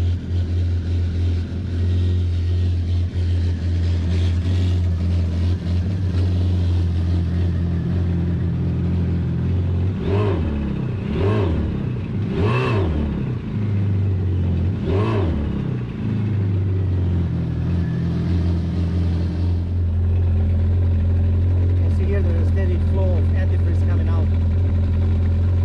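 Yamaha Waverunner GP1800R engine idling steadily during a winterizing flush, with several short revs rising and falling midway before it settles back to a low drone.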